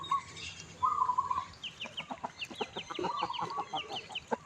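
Chickens at Wat Pong Chai temple in Chae Hom, Lampang, on a damp morning after overnight rain, cluck in quick, choppy bursts near the microphone, with a bird's whistled call sounding briefly earlier.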